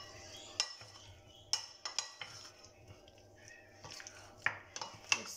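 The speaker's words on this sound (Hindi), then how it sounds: "अब जो है बॉइल किए हुए पोटैटो ये मैं ऐड कर दूंगी। और इसको अच्छी तरह से करेंगे मिक्स।" Boiled potatoes being mixed in a pan for hot and saucy potatoes, with a spoon scraping and clinking against the metal in scattered sharp strokes over a low background hum.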